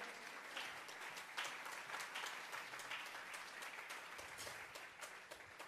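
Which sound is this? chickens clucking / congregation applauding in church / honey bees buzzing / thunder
congregation applauding in church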